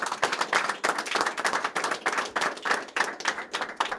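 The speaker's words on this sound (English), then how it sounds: "I think we owe Mac a round of applause for his great work" A small audience at a Madison County meeting on ATRIP funding gives a round of applause, with distinct, fairly close hand claps in a quick uneven patter that continues for several seconds without talk.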